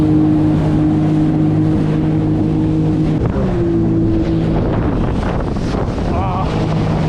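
A jet ski ridden at full throttle off a beach resort in Belek, Turkey, giving a loud constant engine drone under heavy wind buffeting and water splashing, close to the microphone.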